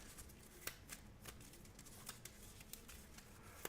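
Deck of cards for the Marvel Champions board game being shuffled, quiet soft riffling with scattered sharp snaps and flicks over a faint background, no talk.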